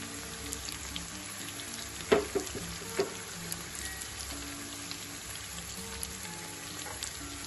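Browning onions with green chillies, chopped garlic and ginger frying in a pan, a continuous crackling sizzle with a few sharp clatters from stirring.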